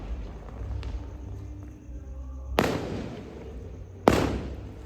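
Two sharp firecracker bangs burst out a second and a half apart from a nearby house, each with a crackling tail, over a low rumbling background beside an outdoor bonfire.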